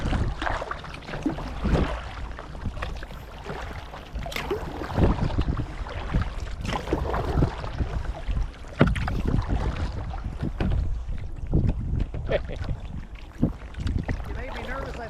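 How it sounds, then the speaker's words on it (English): A kayak paddled with a Greenland paddle on open water, continuous splashing strokes and water wash under steady wind noise on the microphone, close and fairly loud. "I'm getting a nice recording of you paddling with that kayak, with that kayak paddle"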